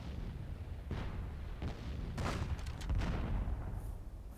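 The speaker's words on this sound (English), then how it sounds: "And here I go with the bombardment." An artillery bombardment in the World War II-themed Myth II Soulblighter video game: a rapid series of heavy, booming shell impacts and blasts rolls on continuously, dense and loud throughout.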